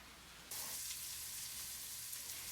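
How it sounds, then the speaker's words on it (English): Onions sizzling and frying in a Dutch oven, a steady broadband crackle that switches on abruptly after a brief quiet start and holds close and even throughout, with no talking. "I'm just frying off some onions in my Dutch oven."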